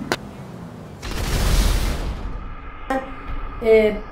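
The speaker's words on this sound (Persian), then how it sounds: "وقتی تو ماشینید یهویی سقوط میکنید میمیرید" A car in the GTA V video game falls and crashes with a loud, broad impact burst followed by a fading rumble, then short metallic clatters and a final thump.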